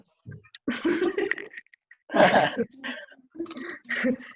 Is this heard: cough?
yes